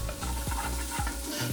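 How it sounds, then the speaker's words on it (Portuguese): Onion and garlic sautéing in pork lard in a pan, a close, steady sizzle with a few stirring scrapes, no voices. "vai refogar a cebolinha e o alho aqui um pouquinho"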